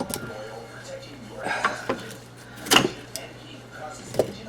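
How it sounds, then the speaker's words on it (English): Carrot snapped into pieces by hand while preparing a slow-cooker hamburger supper, a few sharp brittle cracks scattered over several seconds with kitchen clatter and a person talking nearby. "I'll just break this carrot up."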